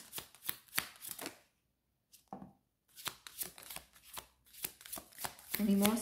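Tarot cards being shuffled close up, with quick riffling bursts and soft slaps separated by short pauses, under a quiet voice.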